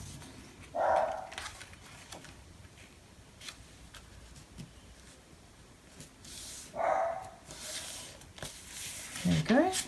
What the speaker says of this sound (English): Oh, I'm sorry about the barking dogs.